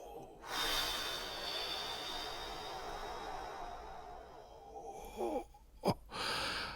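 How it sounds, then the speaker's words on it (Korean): Deep abdominal breathing from physical breath training for voice actors: a long, steady, close inhale-exhale hiss, then short catches of breath and a sharp puff before another breath begins, with no talk. "자, 들이마시고 내쉬고."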